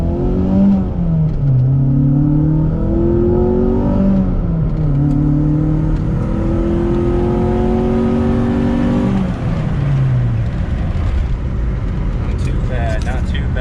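A street-tuned car engine revs on its low cam without VTEC engaging, the pitch climbing and dipping through several rising pulls before settling, loud and close inside the car, with people talking over it.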